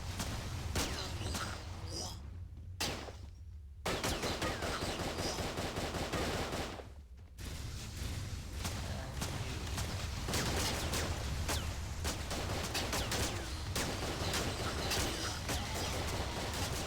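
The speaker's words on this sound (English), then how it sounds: "There's just so much fire coming out of these guns." Rapid bursts of video game gunfire hammer away almost continuously, loud and close, dropping out briefly twice before resuming over game music and effects.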